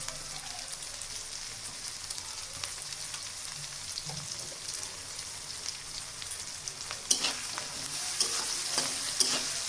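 Pangas fish and boiled potato fry in hot oil in a pan, giving a steady dense sizzle throughout with scattered crackles and pops, a little stronger toward the end, with no talking.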